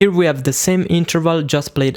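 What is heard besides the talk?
None of the usual background noises is heard.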